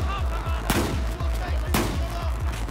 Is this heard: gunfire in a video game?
yes